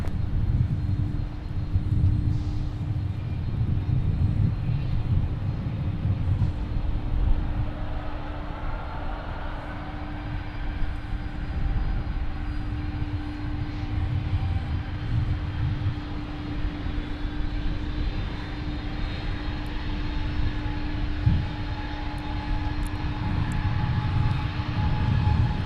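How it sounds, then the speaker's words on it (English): A Prime Air Boeing 737 BCF freighter at Minneapolis–St. Paul airport drones with a steady, continuous engine roar and a sustained tone, moderately loud and unbroken throughout. "sounds like we got another Prime Air 737 BCF headed this way"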